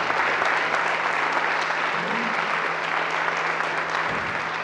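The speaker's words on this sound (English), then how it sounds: "we want to give you one more big round of applause" Audience at a Veterans Day program applauding veterans, a steady, full round of clapping from a large crowd that continues without a break, with a faint low hum underneath.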